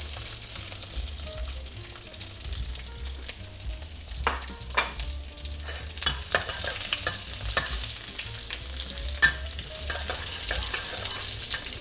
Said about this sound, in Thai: แล้วผมก็จะผัด หอมใหญ่นะครับ